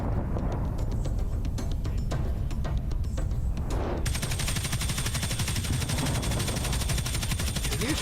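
Video game gunfire from Planet Crafter rattles in loud, continuous rapid bursts that fill the whole stretch, becoming an even denser, harsher automatic stream halfway through.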